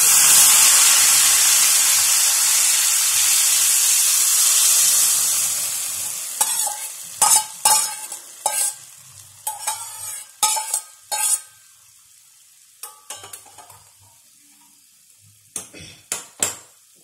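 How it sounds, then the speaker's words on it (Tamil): Boiled vegetables dropped into hot oil with crackling cumin for vegetable kurma, a loud hissing sizzle that fades over several seconds, followed by intermittent scraping and stirring clanks against the pan. "ஜீரகம் பொரிஞ்ச உடனே இந்த இந்த வேக வச்ச காயை அப்படியே எண்ணெயில் போட்டுருங்க."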